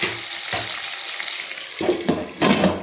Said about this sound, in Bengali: আলুটা আমার মোটামুটি ভাজা হয়ে এসছে